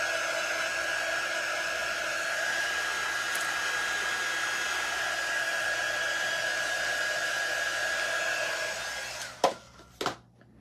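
A hair dryer blows steadily on a craft bird cage cutout, a loud even whir with a faint whine that runs for about nine seconds before it cuts off with a couple of sharp clicks.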